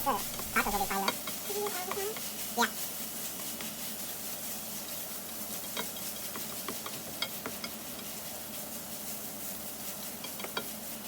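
Fish dusted with dark chili powder is stirred around a frying pan, giving a soft, steady sizzle with scattered scrapes and clinks of the utensil against the pan. A brief voice is heard at the start.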